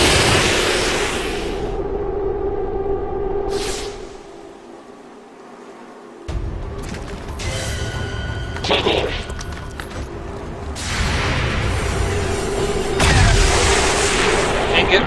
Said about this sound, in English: They decided to move, which means my sniper's going to start shooting.